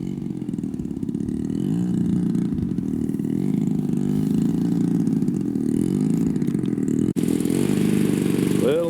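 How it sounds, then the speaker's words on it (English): Model airplane engine from a giant-scale RC warbird running roughly with its high-end mixture set too rich, droning steadily near the listener with uneven pitch wobbles, a brief dropout near the end and faint voices underneath. "Boy, that engine's just not behaving."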